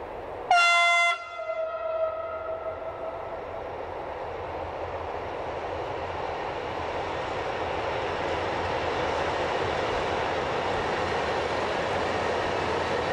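Vectron diesel locomotive 247-904 pulling out slowly near Buna, opening with a loud short horn blast, then a steady rising rumble and rolling roar as the train passes and builds, with no talk.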